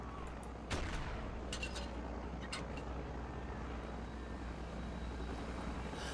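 Rockets flying in the low-budget video game Eve of Destruction Redux make a steady, dense roar with a sharp burst near the start and a few brief crackles over the continuous rumble.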